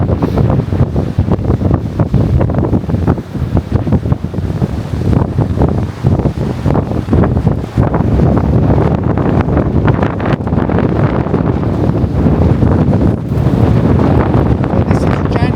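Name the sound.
strong wind during a sandstorm on a Gran Canaria beach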